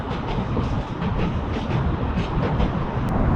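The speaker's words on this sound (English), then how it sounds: "the tunnel where that tube train's coming from heads to Earls Court" A London Underground tube train runs through a tunnel toward Earls Court near West Kensington, a loud, steady rumble with rhythmic clickety-clack of wheels and a brief high squeal near the end.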